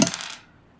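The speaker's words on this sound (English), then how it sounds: "I'm going to roll the dice" Dice are rolled at a home beer-tasting session, a single quick clatter that rattles briefly and fades within half a second, close and fairly soft with no talk.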